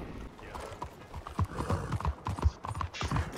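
Horse hooves clip-clop in an irregular run of soft thuds inside a dark multiplayer video game, with a brief whinny mixed in, all under players' excited chatter.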